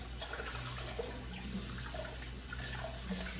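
Tap water runs steadily into a kitchen sink as tempeh is drained and rinsed, a soft, continuous wash of splashing with no talk.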